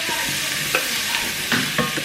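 Cumin is stirred into a sizzling plant-based dish, with a steady hiss of frying broken by several sharp scrapes and knocks of the spoon against the pan.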